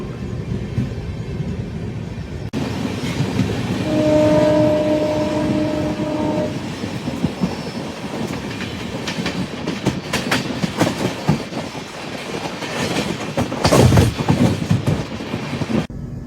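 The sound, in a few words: Tirupati–Visakhapatnam Double Decker Express train with shunting locomotive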